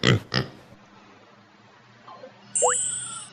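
A couple of short, gruff pig oinks at the start, then quiet and a thin, high whistling tone near the end.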